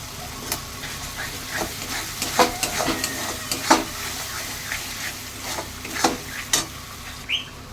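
Spice masala with nut paste and turmeric being sautéed for prawn malai curry, a low steady sizzle punctuated by repeated sharp scrapes and taps of a spatula at irregular intervals, close by and without talk.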